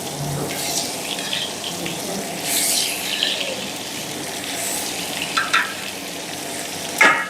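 Hilsa fish pieces sizzle and crackle steadily in hot mustard-flavoured oil, a close, constant frying hiss with occasional louder pops and spatters.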